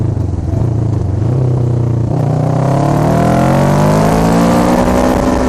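A motorcycle engine revs hard near redline and then downshifts, giving a loud, continuous, close roar whose pitch dips and then climbs steadily as the revs rise again.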